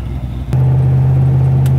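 A 1967 Shelby GT500 with a 428 V8 and four-speed gearbox cruises the I-5 freeway. After a soft opening, a loud, steady engine drone kicks in abruptly and holds, with a sharp click near the end.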